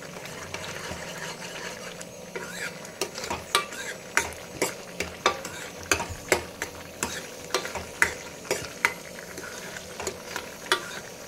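A spoon scrapes and stirs thick white pumpkin halwa in a pan, with repeated rhythmic clacks against the metal over a soft bubbling sizzle of oil.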